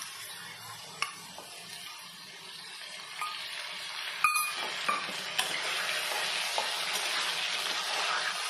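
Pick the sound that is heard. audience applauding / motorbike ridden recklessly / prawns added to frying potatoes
prawns added to frying potatoes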